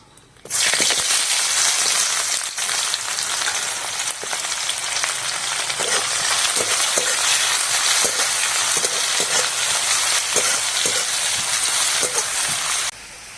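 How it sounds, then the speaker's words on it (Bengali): Onions frying in a pan sizzle loudly and steadily at close range, with occasional scraping stirs breaking through the crackle, before the sound cuts off abruptly near the end. "পেঁয়াজটা ভালো করে ভেজে নিয়েছি"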